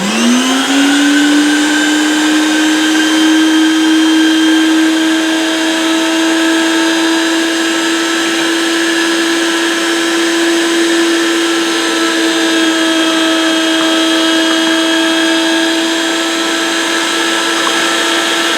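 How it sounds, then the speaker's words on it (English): An electric meat grinder coarse-grinds boudin filling, running as a loud, steady motor whine that holds one constant pitch from start to finish, with no talking. "We're going to kick this thing on. We're going to give this a coarse grind."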